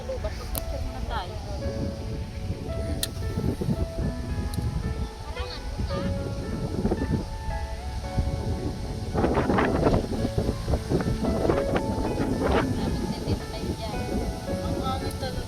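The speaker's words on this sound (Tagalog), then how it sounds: "Ang hangin talaga." Strong wind buffets the microphone outdoors, a constant low rumble with gusts rising and falling. People talk over it throughout.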